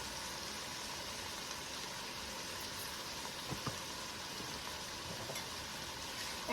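Ground beef frying in a pan for chili gives off a steady, quiet sizzling hiss, with a couple of faint clicks partway through.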